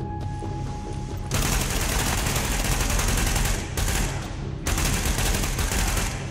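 Enemy gunfire in the video game The Division: a dense, continuous roar of rapid shots that pauses briefly twice before resuming, loud and close, with no speech.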